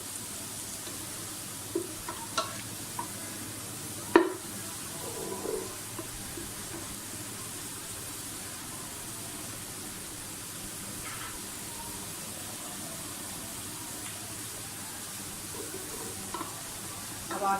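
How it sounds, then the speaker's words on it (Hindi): Onions fry in a large cooking pot, giving a steady, soft hiss of sizzling oil throughout, with a few faint clinks and stirring scrapes, fairly quiet and continuous with no voices. "प्याज हमारे जो है वो फ्राई हो रहे हैं।"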